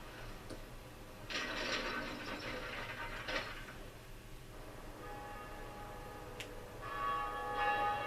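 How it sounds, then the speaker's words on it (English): A large bell rung in the video game Dark Souls gives a broad metallic clang that rings on for about two seconds, then a second tolling strike rises later over a low mechanical rumble. "So, let's ring this bell."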